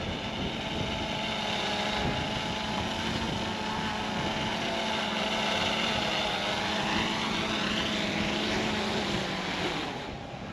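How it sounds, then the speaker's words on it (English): A drone flies nearby with a steady, loud propeller whine that holds throughout and shifts slightly in pitch as it moves. "But we took the drone out."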